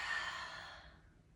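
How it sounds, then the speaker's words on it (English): A single soft, breathy exhale during a yoga forward fold, close and quiet, tapering away over about a second. "Exhale, fold."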